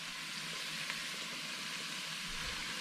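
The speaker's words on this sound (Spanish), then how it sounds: "Lo que queremos hacer es que se empiece a dorar este pollo junto con la cebolla." Shredded chicken and onion fry together in a pan for green chicken enchiladas, giving a steady, soft, continuous sizzle with faint crackles and no talk.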